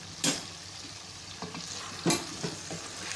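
Cumin seeds and red chili flakes sizzle in hot oil for a potato curry, a steady frying hiss punctuated by a few scraping stirs of a spoon in the pan, close and clear.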